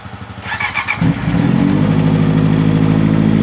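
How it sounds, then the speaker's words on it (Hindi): A Honda CBR650R motorcycle cold-starting high on a mountain road: a whirring starter crank catches into a loud, steady, throbbing four-cylinder idle that carries on close to the microphone. "चलिए बज़ूका को कोल्ड स्टार्ट करते हैं।"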